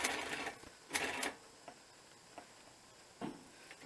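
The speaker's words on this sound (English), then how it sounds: "I'm just going to sew around the corner a little bit." A sewing machine stitches a bushcraft working vest in short, quiet bursts: one longer run near the start, then a few brief taps and a final short burst, with near-silence between them.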